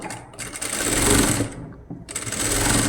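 A sewing machine runs a steady stitching burst along the edge of an umbrella gown, a quarter inch in from the canvas, pausing briefly near the end before the motor picks back up, loud and close with no talk.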